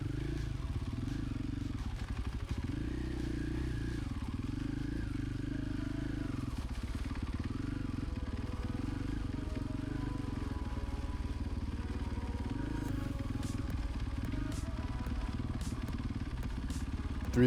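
A dirt bike in second or third gear putters at near idle with the clutch slipping as it crawls over slick, leaf-covered mossy rock during an off-road rally, giving a low, steady engine burble with faint clatter and scraping.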